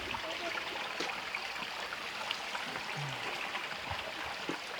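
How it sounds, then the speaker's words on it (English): A small creek stream running through little rock channels in a mossy, damp spot, a steady soft rushing and trickling heard at a moderate distance with faint drips throughout. "There's even the water is coming through those little paths in the rock area."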